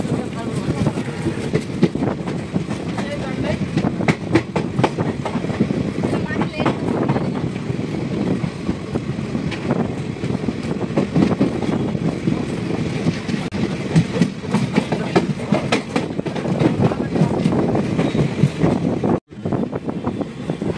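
A passenger train rolls along the easternmost rail route in India after departing Naharkatia station toward Namrup, with a steady rumble and faint wheel clatter throughout and a brief dip near the end.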